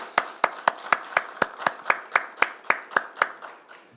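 Church congregation clapping together during a Christmas worship service, about fifteen even, steady claps at a brisk rhythm, fairly close and clear, fading slightly at the end with no talk.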